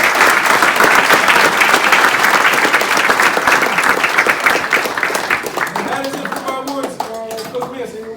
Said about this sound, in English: give a round of applause for these unsung heroes